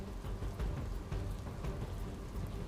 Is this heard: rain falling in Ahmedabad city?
yes